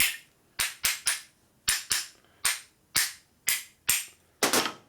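A hammer taps on cylinder head parts from a 1952 Harley-Davidson panhead 74ci engine, about a dozen sharp metallic whacks in an uneven rhythm, close and loud in a quiet workshop.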